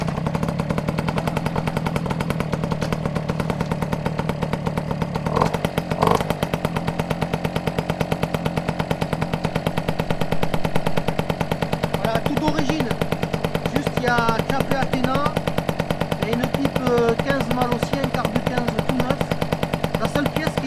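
Moped engine started on the choke, running as a loud, rapid, buzzing two-stroke rattle held steadily close by for about twenty seconds, with a voice faintly speaking under it near the end.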